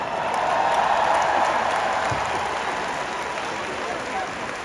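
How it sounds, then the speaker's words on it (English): A crowded room of trainee associates breaks into a round of applause for themselves, a steady wash of many hands clapping at moderate level with no single claps standing out. "Give yourself a round of applause."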